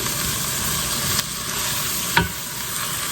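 Steady stirring of flour into onions, garlic and seasoning in a pot for French onion soup, a continuous sizzle with a couple of spoon scrapes and knocks, close and unaccompanied by speech.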